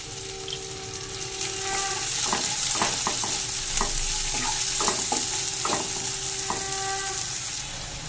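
Bay leaf, dried chili, cumin and chopped onion sizzle in hot oil for mutton keema ghugni, a steady close hiss with a series of light spoon knocks and scrapes against the pan.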